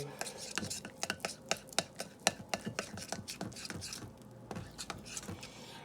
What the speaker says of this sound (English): we're going to add some more flour here and mix this in